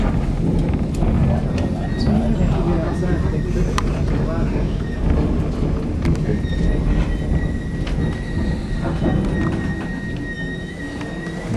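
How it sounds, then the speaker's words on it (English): A train moving along tracks on an Alaska cruise shore excursion rumbles loudly and steadily, with wheel squeals and rail clatter throughout and a few sharp metallic clicks, heard close from on board. "What we're going to do is switch our engines from the front of the train."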